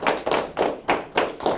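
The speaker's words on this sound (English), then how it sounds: "we're going to clap it up for the Feast of Unleavened Bread" A congregation at a Feast of Unleavened Bread gathering claps in rhythmic, evenly spaced bursts, about six slow beats in a row, moderately loud and close.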